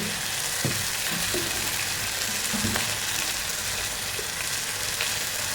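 Turmeric, chili, coriander and pepper powders sizzle in hot oil in a pressure cooker for egg curry: a loud, steady, close frying hiss with a few soft stirring knocks.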